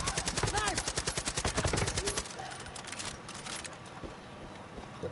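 Rapid automatic rifle fire from the video game Far Cry 5, a loud dense burst of evenly spaced shots for about two seconds, then quieter scattered gunfire and ambient game noise.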